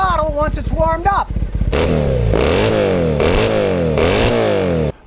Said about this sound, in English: give it a lot of throttle once it's warmed up